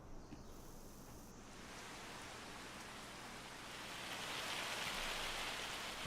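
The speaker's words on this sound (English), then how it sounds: "I heard a little bit of hail there." Hail falling in the Farming Simulator 25 video game, a steady dense patter that swells louder toward the end, heard alone without voices.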